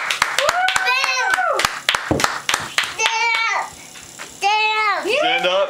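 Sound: hands clapping

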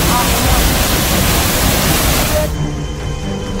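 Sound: waterfall gushing after heavy rain in Nawada, Bihar

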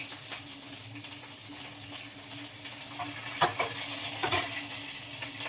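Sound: green chillies and curry leaves frying in a pan

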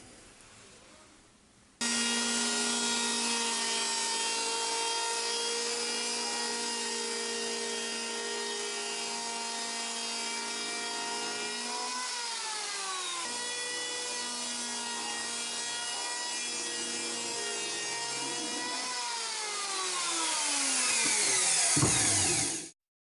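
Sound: planing a wooden board down to a line

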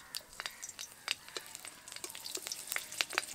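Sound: nigella seeds and green chillies tempering in hot oil

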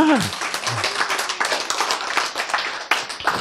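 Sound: audience clapping

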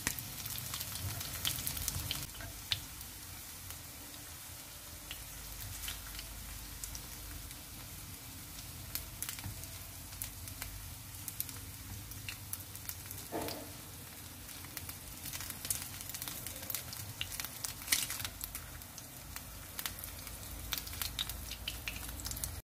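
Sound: sea shrimp cakes frying in oil

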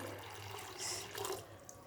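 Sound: water being poured into a bowl

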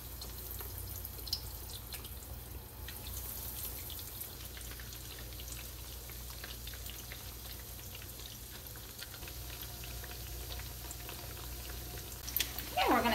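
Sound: eggplant frying in hot oil

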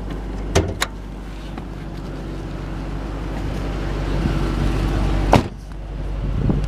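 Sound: 2010 Ford Mustang GT power window lowering and door locks

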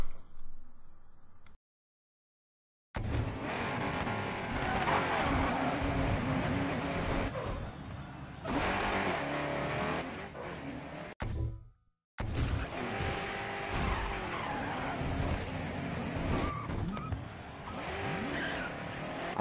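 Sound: cars crashing in Demolition Derby mode, video game Grid Autosport

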